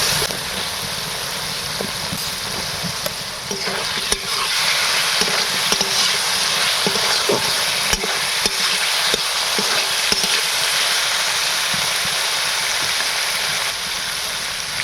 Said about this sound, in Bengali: এবার আমি এখানে ভাজা আলুটা দিয়ে দেবো।